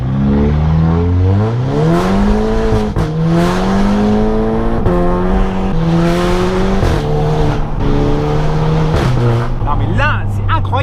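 A car fitted with a forged carbon intake kit revs hard and loudly, its engine note climbing and falling repeatedly in sustained, continuous pulls.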